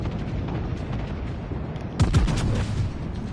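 Warship main guns firing a broadside in the naval video game World of Warships Legends, a loud booming salvo partway through over a continuous rumbling battle background.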